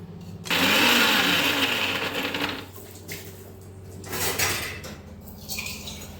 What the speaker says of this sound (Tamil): இதை நம்ம இனி மிக்ஸில் வச்சு நல்லா அரைச்சிட வேண்டியதான்.